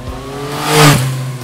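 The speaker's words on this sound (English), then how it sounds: "It looks amazing, sounds amazing. That raspy exhaust pipe." A vintage motorcycle's engine revs through a raspy exhaust, swelling to a loud, rasping peak and then settling back to a steady drone, with no voices.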